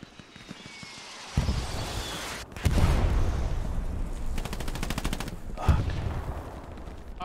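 Heavy gunfire and blasts from a Hell Let Loose battle, with rapid machine-gun bursts and booming impacts that start suddenly and continue loud and dense. There is no talking.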